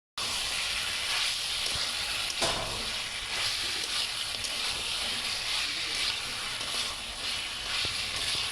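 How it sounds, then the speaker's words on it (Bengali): Dried red chillies sizzle in hot oil while chicken kosha is being cooked, a steady, fairly loud hissing fry that runs throughout with a few small pops and crackles, no one talking. "আমি 2-3টা শুকনো মরিচ বিচি ফালিয়ে এগুলো এখানে দিয়ে দেবো"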